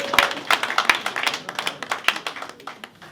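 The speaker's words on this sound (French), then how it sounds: "Acclamons pour lui." Audience applause at an investiture ceremony, made of scattered individual claps at a moderate distance, uneven and fairly sparse rather than a dense roar, lasting about three seconds.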